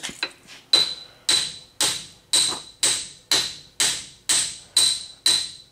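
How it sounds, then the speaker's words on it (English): Hammer beating on a stuck go kart part from a Crossfire 150, about ten sharp metallic strikes in a steady, evenly spaced rhythm, close and loud with ringing decay. "should I be beating on it with a hammer?"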